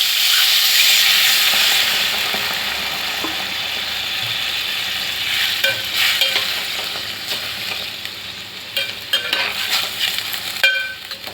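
Water is added to a sizzling, spicy brinjal curry in a pan and stirred, a loud hissing burst at first that settles into bubbling with scraping clinks of the spoon, no talk.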